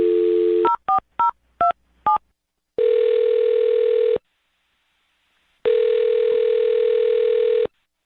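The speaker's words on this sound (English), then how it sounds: "I'm going to dial her phone number right now and see if we can get her on the phone." A telephone keypad sends five quick dialing tones in a row, followed by two long ringback tones separated by a silent gap, all clear and close with no talking.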